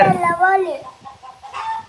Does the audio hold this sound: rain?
no